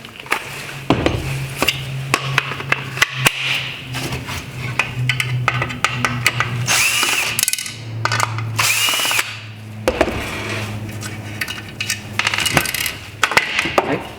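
A power driver spins out two Phillips head screws from the high beam reflector of a 2014-2016 Toyota Corolla LED headlight, with whirring runs and sharp metallic clinks and taps close by.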